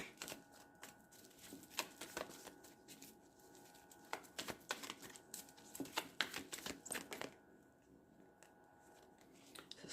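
Tarot cards being shuffled and drawn from the deck, a steady run of crisp riffling snaps and soft slaps of card on card, close and fairly quiet with no voices.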